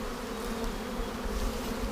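Honeybees in an opened overwintered hive, a dense continuous buzz from many bees close by, steady and even throughout, with no talking.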